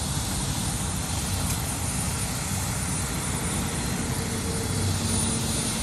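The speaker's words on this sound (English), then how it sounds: "They are loading him up in the chopper now." Continuous loud whirring rotor and engine noise from a nearby helicopter loading a crash victim, steady throughout with no voices.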